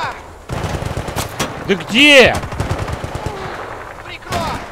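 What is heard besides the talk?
gunfire in video game Battlefield Bad Company 2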